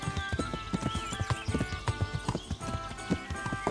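Horse hooves clip-clop in a quick, steady rhythm within the Kingdom Come: Deliverance video game, the clear hoofbeats close and alone over a soft ambient backdrop.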